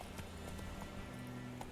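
Hooves of Roach, a horse in The Witcher 3 video game, clip-clop at a galloping rhythm, steady and fairly quiet under a low droning game soundtrack, with no talking.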